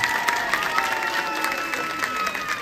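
Audience applause fills the hall with dense, steady clapping mixed with crowd noise and some cheering, sustained at an even level throughout the short stretch.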